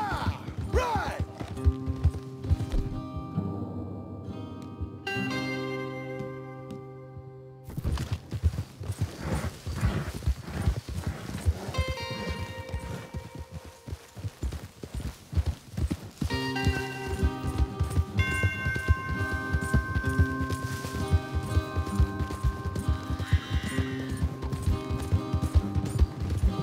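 Horses gallop with steady, rhythmic hoofbeats in the Red Dead Redemption 2 video game, under a bed of music with dramatic tonal swells throughout.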